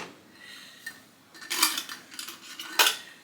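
Metal canning jar lids clink and rattle as they are handled, a few light scattered clatters with two louder bursts, close and with no voices.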